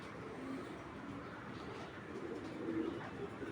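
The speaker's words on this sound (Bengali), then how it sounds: "এটা হলো একটা বিডার কবুতর।" A Bangladeshi Giribaj breeder pigeon coos softly and steadily at close range, its low murmuring calls running through the whole stretch with faint background noise.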